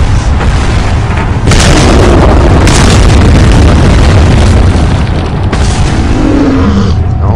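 A grenade explodes in the Resident Evil 4 video game, with several heavy, close booms and a roaring rumble that fills the scene at full loudness.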